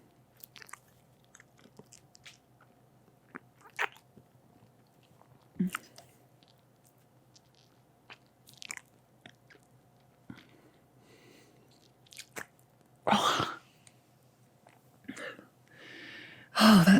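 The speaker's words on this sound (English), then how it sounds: "I'm just gonna bite down on your hand now." Close, intimate biting and chewing on a hand in vampire-themed ASMR, with scattered soft mouth clicks and crunches over a quiet background, followed by a few louder wet bites and breathy sounds near the end.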